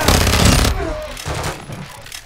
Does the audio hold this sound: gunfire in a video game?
yes